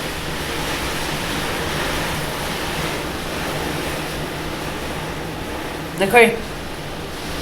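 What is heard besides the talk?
flood water rushing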